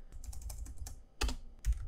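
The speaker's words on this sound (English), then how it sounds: "So I'll just type out NPM update." Computer keyboard typing up close, a quick irregular run of light clicks followed by a couple of heavier key strikes, with no talking.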